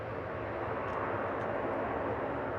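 A 33-year-old Boeing 737-400 airliner at Melbourne Airport gives a distant, faint, continuous broadband jet roar that holds steady without a break.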